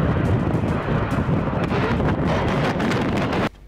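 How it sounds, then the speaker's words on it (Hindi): A BrahMos supersonic cruise missile test launch at Balasore, Odisha, heard as a loud, continuous roaring rush of blast and wind noise that cuts off abruptly near the end. "डीआरडीओ यानी रक्षा अनुसंधान एवं विकास संगठन ने ओडिशा के बालासोर में ब्रह्मोस सुपरसोनिक क्रूज मिसाइल का परीक्षण किया"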